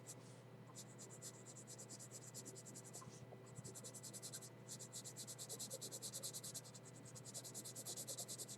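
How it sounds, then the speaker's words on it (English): Soft, steady 4B pencil shading on paper, a rapid papery scratching that pulses in fast strokes almost continuously, with a brief pause midway, faint and close under a low background hum. "use a 4B pencil to darken this area out"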